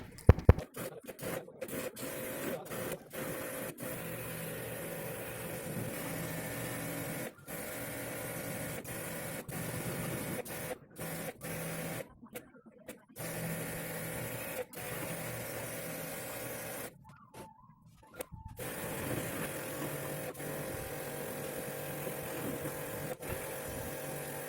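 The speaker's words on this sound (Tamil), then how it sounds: "இப்போ வாட்டர் வாஷ் ஸ்டார்ட் பண்ணியாச்சு." Water-wash spray cleans a window air conditioner during servicing, a long continuous broadband hiss and rumble with repeated brief dropouts and stops, steady and close, with no speech.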